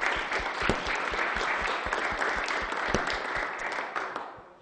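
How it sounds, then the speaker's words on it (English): Applause at a First Friday business gathering, where a room of people clap steadily with a few sharp nearby claps standing out before it tapers off. "A nice round of applause for the bowl"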